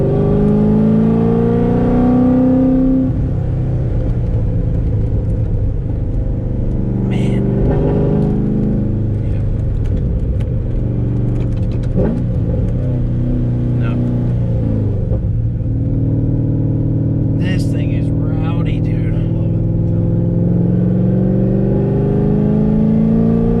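Cammed C6 Corvette V8 driven on the road, a loud steady engine drone with rising and falling revs through the run, deep rumble continuous under cabin noise.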